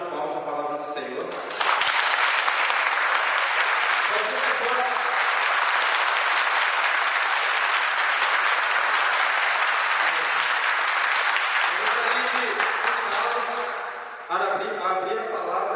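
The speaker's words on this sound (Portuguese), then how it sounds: "a gente venha a dar uma salva de palmas à palavra do Senhor" Church congregation breaks into loud, sustained applause for nearly twelve seconds, a dense wash of many hands clapping together, with speaking heard briefly before it begins and again as it fades.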